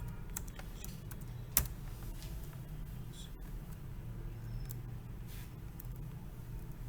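A password being typed on a computer keyboard, light, quick key taps scattered irregularly over a low hum, with one sharper knock, close by and without speech.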